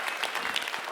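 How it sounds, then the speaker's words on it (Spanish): A church congregation claps together in a brief burst of dense, even applause, steady and moderately loud from a crowd filling the room. "Dale un fuerte aplauso acá"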